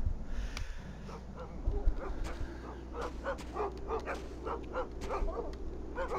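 Dogs in a kennel in the war video game Iron Storm bark and yip repeatedly, a rapid irregular series of moderately loud barks over a low continuous rumble.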